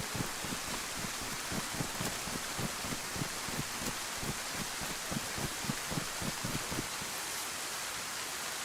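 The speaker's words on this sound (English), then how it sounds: "Turn this bloody rain down." Steady, soft rain hisses evenly in the DayZ game world, with a rhythmic series of quiet footsteps thudding underneath for most of the stretch.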